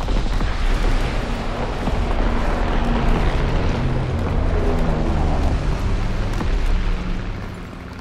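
Artillery barrage in Call of Duty WWII on the Airship map of the Shadow War DLC, a heavy, continuous roll of overlapping booms and rumbling explosions that eases off in the last second.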